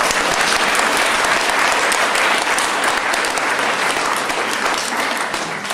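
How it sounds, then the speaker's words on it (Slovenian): An audience at a library opening in Komenda giving sustained, even applause to an honorary citizen, a dense loud wash of many hands clapping continuously throughout with no pauses. "en aplavz za njo."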